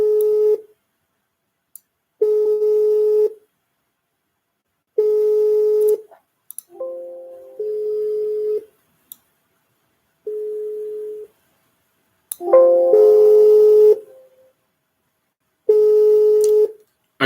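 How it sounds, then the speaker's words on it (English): Repeated ringback tones of an incoming Telegram phone call, steady beeps of about a second each separated by silent gaps, with a few brief irregular tones in between. "do you see the phone call in the Telegram?"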